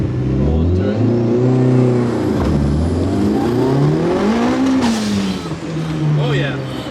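Mitsubishi Evo 5 with a new turbo pulling away in a parking lot: a loud, steady engine drone that climbs in pitch, dips briefly, then climbs again, heard from inside the car as someone talks over it.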